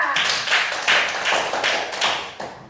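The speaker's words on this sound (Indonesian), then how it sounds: "Beri tepuk tangan untuk Diva" A classroom of students claps for a classmate, a short burst of irregular, close hand claps in rhythmic clusters lasting a few seconds.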